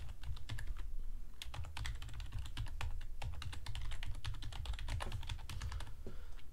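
Rapid, steady typing on a computer keyboard as an email address is entered, close and fairly quiet, with dense clicking keystrokes and no voices.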